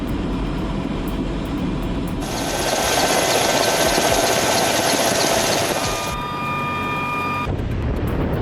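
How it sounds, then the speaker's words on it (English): A large Russian heavy-lift helicopter hoisting an Su-27 fighter jet roars close by, its heavy rotor thudding and engine whining loudly and continuously, swelling in the middle then easing slightly. "A heavy-lift Russian helicopter hoists a powerful Su-27 fighter jet into the air."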